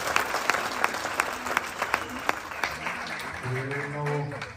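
Applause rises from a church congregation at a Christian centre service, with separate claps over a softer wash and a voice coming in toward the end.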